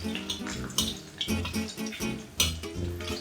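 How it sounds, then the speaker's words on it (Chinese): Ginger stir-fried in hot oil in a wok for a vegetarian kung pao dish, with close, busy clattering of a spatula against the pan over a steady sizzle, heard alone. "放入姜炒香"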